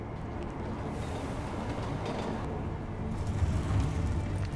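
A train in the video game Deus Ex: Mankind Divided gives off a steady, moderate rumble that swells slightly toward the end, with no voices.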